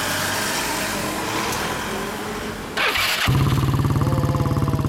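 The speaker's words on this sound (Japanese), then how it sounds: "エンジンを聞かせてもらいます。" A 2007 Yamaha Cygnus X type 2 scooter fitted with an HPM muffler, fully customized, starts up after a brief burst of noise, then settles into a loud, close, steady idle with a rapid pulsing beat.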